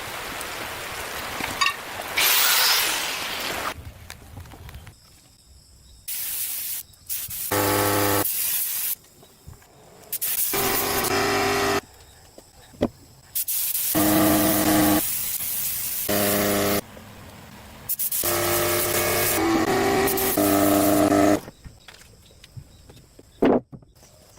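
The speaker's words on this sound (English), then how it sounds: "a fine mist spray gun seals the wood" Bursts of fine hissing spray from a spray gun, repeated in short on-off passes with brief pauses between, fairly close and steady.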